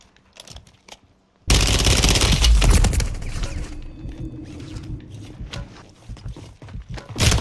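Gunfire from shotguns in a multiplayer shooter video game, a sudden loud burst of close blasts that kicks in after a quiet start, then a dense rattle of shots and thuds trailing off, with a louder hit at the end.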